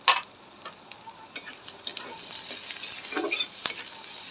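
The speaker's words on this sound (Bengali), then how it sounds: "এবার দেবো রসুন, আদা কুচি, এরপর দেবো রসুন কুচি।" Chopped garlic and ginger frying in oil in a home kitchen for Bengali egg chops: a steady close sizzle with scattered crackles and the scrape of a stirring spoon, no voices.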